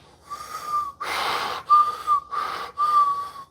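A voice mimics a whistling fart, producing several squeaky, tonal whistles broken by breathy, snort-like bursts, close and fairly loud with no other sound.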